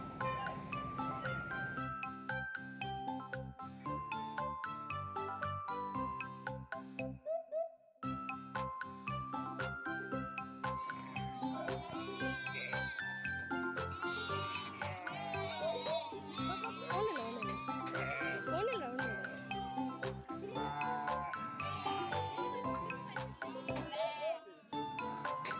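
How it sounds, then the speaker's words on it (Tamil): Lambs bleating at a sheep farm in Kodaikanal, layered with steady jingling bells and a continuous tonal drone, people talking intermittently over the moderately loud scene. "இந்த ஆட்டுக்குட்டிகளோட சத்தத்தை கேட்கவே அவ்வளோ அழகாக இருந்ததுங்க."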